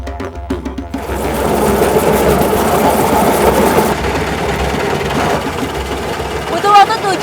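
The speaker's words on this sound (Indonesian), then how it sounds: "Karena hanya dikendalikan satu mesin dinamo dan harus melewati lintasan ekstrim, maka masinis harus sangat berhati-hati dalam mengendarai kereta lori." Dynamo-engine rail trolley (kereta lori) running on a rough, extreme track, a fast rattling mechanical whir that starts abruptly after a brief knocking and runs steadily, with voices talking over it near the end.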